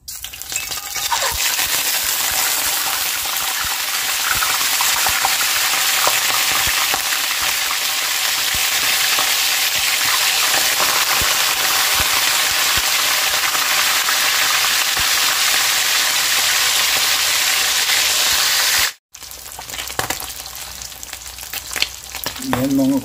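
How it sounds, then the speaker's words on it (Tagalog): Marinated dried fish (daing) frying in a pan gives a loud, steady, close sizzle that crackles throughout, with a brief cut near the end before the sizzle resumes; no one speaks. "prito na po tayo ng ating marinated daing"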